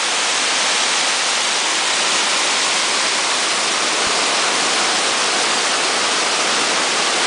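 A waterfall on a river, roughly 200 metres wide, roars as a loud, steady, unbroken rush of falling water with no voices over it.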